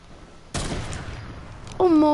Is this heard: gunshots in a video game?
yes